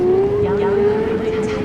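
Car driving in the video game Cyberpunk 2077, running with max ray path tracing on, gives a steady engine drone with a rising tonal whine, continuous and fairly loud throughout.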